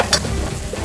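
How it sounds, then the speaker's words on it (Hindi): Spice tempering (tadka) for Punjabi mustard greens (sarson ka saag) sizzles steadily in hot oil, a brief close frying hiss with a short brighter burst near the start. "अब ये हमारा मसाला पूरी तरह से भूनकर तैयार हो गया है तड़का।"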